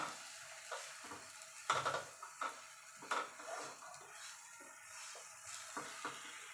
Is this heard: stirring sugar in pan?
yes